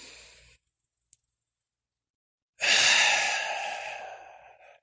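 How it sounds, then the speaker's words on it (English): A deep inhale during a guided calming breathing exercise, one long, close airy breath rising sharply then tapering off after a short silence. "3, breathe in again."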